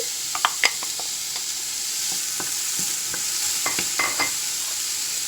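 Onion added to hot oil in a pan gives a steady, even sizzle, with a few light clicks and scrapes of stirring, close and moderately loud.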